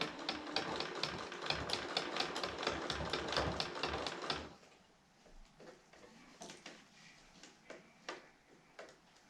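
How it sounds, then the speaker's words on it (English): A sewing machine with a freshly replaced needle runs in a fast, steady burst of mechanical stitching for about four seconds, then stops, leaving faint scattered clicks and handling noises. "Okay, needles replaced, machines rethreaded."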